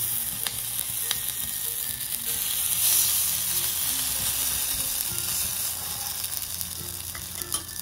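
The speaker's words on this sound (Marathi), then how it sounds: "थोडंसं पांढरं तेल टाकून घेऊ आणि थोडीशी मोहरी टाकू। उडायला लागलं" Mustard seeds crackling and spluttering in hot white oil in a pan while a semolina snack is being made, a dense steady sizzle with scattered pops, close and continuous with no talk.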